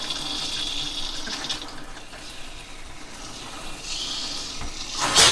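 Water rushes steadily from a shower head set low inside a 2021 R-Pod 190 travel trailer, a continuous hiss and splash that swells near the end as the flow picks up, with no voices.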